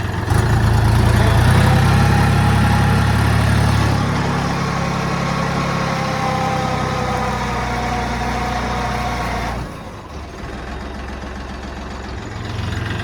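A DTZ 5354 tractor engine runs steadily while plowing in low range, a loud, close diesel drone with a deep rumble that drops slightly in pitch and load partway through, then eases near the end.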